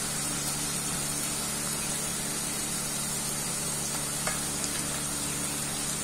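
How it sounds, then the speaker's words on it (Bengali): Garlic paste fries in hot oil in a pan after softened onions, a steady, soft sizzling hiss that continues evenly with no pauses, close but fairly quiet. "আমি রসুনটাকে তেলের মধ্যে একটু ভেজে নেব"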